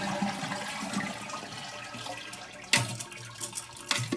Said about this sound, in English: Second thing I'm going to do is flush the toilet.